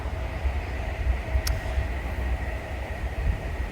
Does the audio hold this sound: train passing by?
yes